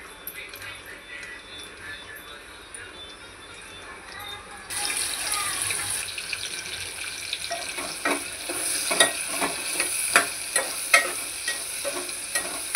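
Chopped onion dropped into two or three ladles of hot oil with cumin seeds, a steady close sizzle that swells as the onion goes in, with rhythmic spoon or spatula scrapes against the pan.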